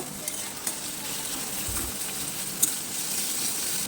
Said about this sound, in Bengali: পেঁয়াজ আর কাঁচামরিচটাকে ভেজে নেব